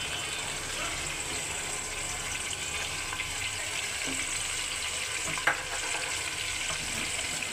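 Spices and chilies sautéing in a pan for beef nehari give a steady, soft sizzle and crackle throughout, with a brief clatter near the end and no voices.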